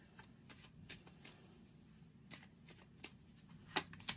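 Tarot cards shuffled and drawn by hand, a run of soft riffling flicks and papery snaps with a sharper card slap near the end, close and quiet with no talking.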